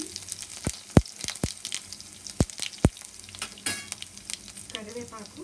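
Crushed garlic sizzles in hot oil for a green mango and coconut chutney, with a bright, crackling fry broken by several loud, sharp spoon taps against the pan.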